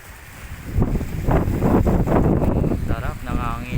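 Steady wind rushes across the microphone outdoors at a resort photoshoot, with voices talking over it and faint water-like noise in the background.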